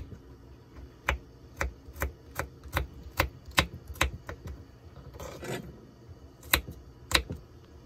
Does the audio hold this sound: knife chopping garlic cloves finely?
yes